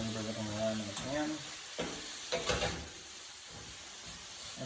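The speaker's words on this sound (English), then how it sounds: "I like this because it's got a flat edge, so it's easy to maneuver it around in the pan" Onions and sweet peppers sizzle in oil in a pan while a flat-edged utensil stirs and scrapes them around, with a few clattering strokes, and a person speaks over the frying at the start.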